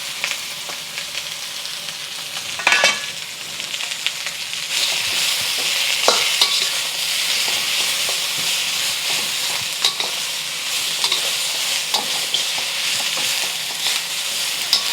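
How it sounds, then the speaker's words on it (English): Onions, red peppers and jalapeno peppers stir-frying in hot oil in a pan for Thai basil beef, a loud, steady sizzle with occasional scraping clatter of a spatula, close up and without speech. "and then adding the onions, red peppers, and jalapeno peppers"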